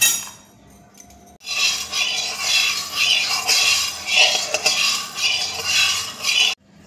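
A little ghee stirred in a wok for a mango sweet: rapid metal spatula scraping and clinking against the pan with a faint sizzle underneath, steady and close, stopping abruptly at the end.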